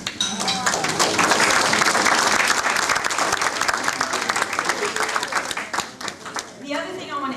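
Audience applause at a 50th anniversary celebration, dense sustained clapping from a room full of people, steady and loud before thinning out at the end, with voices mixed in.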